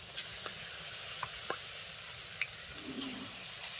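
Small palm fruit fritters (taler bora) frying in hot oil, a steady soft sizzle throughout with a few faint clicks and taps from the pan, no voice.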